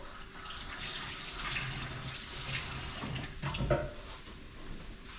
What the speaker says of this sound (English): Just gonna wash my hands a little bit.